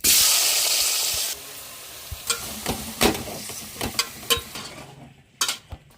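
Spices tempering in hot oil for a chicken curry, a loud steady sizzle for the first second or so, then quieter frying broken by sharp clinks of a spoon stirring against the pan, with no voices.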